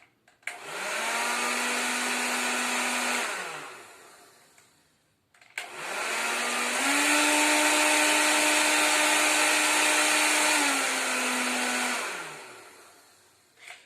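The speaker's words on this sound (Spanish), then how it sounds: "Yo pongo mi secador de pelo y hago circular aire con velocidad por encima de la hoja." A hair dryer runs twice, blowing air fast across a sheet of paper in a physics demonstration of Bernoulli's principle. Each run is a loud, steady whoosh with a motor whine that spins up, holds, then winds down, the second run longer than the first.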